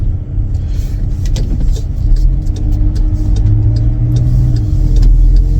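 A car driven by an Uber driver in Manchester, England, pulls into a parking spot, its engine rumbling loud and close throughout, with slight revving and no speech.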